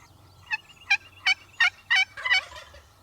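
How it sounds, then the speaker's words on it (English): Wild turkey gobbling from the roost, a series of six rapid rattling gobbles at a steady pace, moderately near and clear over a faint low background hum. "Hopefully we get a few gobbles and hopefully we get a few birds to work in."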